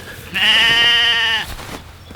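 A sheep on a small farm lets out one loud, close, wavering bleat lasting about a second, against quiet outdoor background.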